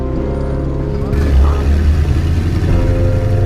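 A Pontiac Firebird engine runs at a steady, rough idle, a loud low rumble with a faulty car that will not respond under power, while people talk over it.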